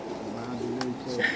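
Giribaz pigeons on a farm coo in soft, low rolling calls under a steady background, with a brief higher chirp near the end and faint voices in the distance.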